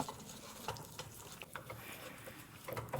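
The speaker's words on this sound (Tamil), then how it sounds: "நல்லா இப்போ முந்திரி நல்லா வறுபட்டுருச்சு" Cashews, coconut and cardamom roast slowly in a pan over low heat, a soft sizzle with scraping stirs and light taps of a spatula, close and quiet with no talking.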